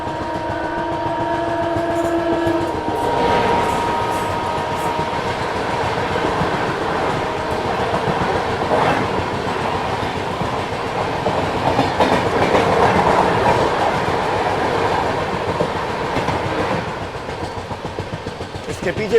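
LTT Bhatni Express train passing on the Itarsi–Nagpur line through ghat sections, a loud continuous rumble with rhythmic clickety-clack of wheels over rail joints throughout, with a voice speaking over it.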